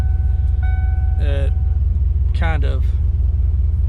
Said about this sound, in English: So it sounds like an old car